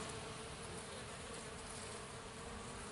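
Honeybees at a hive entrance bring in pollen at an apiary being prepared for winter, making a steady, dense buzz that stays faint and even throughout, with no voices.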